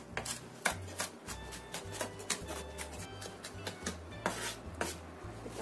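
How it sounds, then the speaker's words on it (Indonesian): A knife finely minces garlic on a cutting board, giving rapid, irregular chopping taps close by over a low humming background, with no talking. "Kemudian untuk bawang putihnya kita cincang halus."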